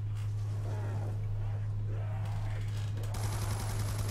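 Rapid gunfire from the zombie video game Mob of the Dead, a steady stream of shots with a constant low hum running through it and players talking over it.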